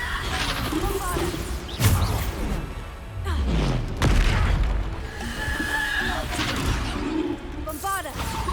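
Explosive Bombarda spell blasts in the Hogwarts Legacy video game, several loud booms and crashing impacts landing amid combat effects, with spoken spell names between the hits.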